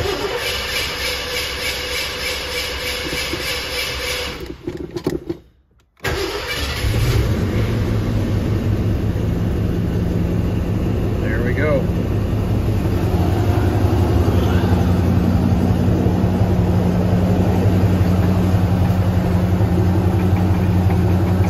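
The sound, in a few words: 1979 Ford Mustang engine starting and idling with stock exhaust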